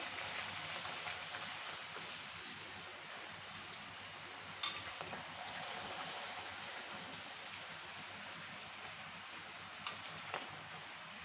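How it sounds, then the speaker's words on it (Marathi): Puris deep-frying in hot oil while making a fasting-style puri bhaji, a steady soft hiss and crackle of bubbling oil throughout, with a few brief louder pops. "आता आपण पुऱ्या तळून घेऊ"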